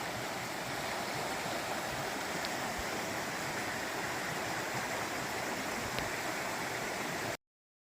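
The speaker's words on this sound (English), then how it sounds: "more of the Rainbow Stream down here" Rainbow Stream, a mountain stream along the Appalachian Trail, flows with an even, continuous rush of water, moderately loud and unbroken until it cuts off abruptly.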